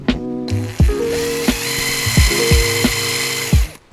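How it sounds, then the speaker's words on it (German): A self-centering drill bit bores a pilot hole in a workshop, with a power drill whining in short repeated bursts that start and stop several times, loud and close, with no talk. "Deswegen nutze ich so einen selbstzentrierenden Bohrer."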